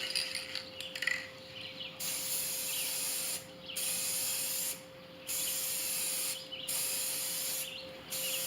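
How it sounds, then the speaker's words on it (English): Blue spray paint hisses onto burlap in five or six steady bursts, each lasting about a second or more, with short pauses between them. The bursts are close and fairly quiet over a faint steady hum. "using some blue spray paint, I'm going to go ahead and I'm going to spray over that rectangle"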